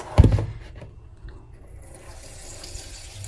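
A banana blossom is washed in a kitchen sink: a brief clattering splash comes first, then tap water runs in a faint, steady trickle.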